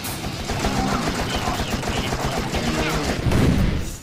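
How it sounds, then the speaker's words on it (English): Gunfire in the video game You Are Empty: sustained rapid automatic shooting with dense crackling bursts, loud and continuous across the clip, with a heavier burst near the end. "Gotta wait for the gap in the firing."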